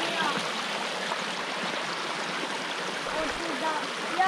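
A stream flows beside a road in the Žumberak hills, giving a steady, close rushing and gurgling of water that continues unbroken.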